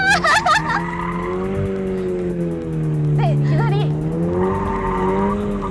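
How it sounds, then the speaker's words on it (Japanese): A car drifts during a drift lesson on a circuit, tires squealing loudly and steadily as the tail swings from side to side, with the engine droning underneath and people talking over it. "もう車を振り回しちゃっていいんで、とりあえず右にケツが出る左にケツが出るっていうイメージ作りで"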